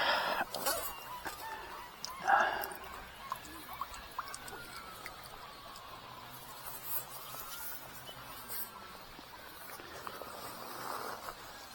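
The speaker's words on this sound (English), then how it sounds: "Sorry, ducks." Waterfowl honk and quack by the riverside at Earith, scattered calls at mid distance over a quiet outdoor background with insect buzz.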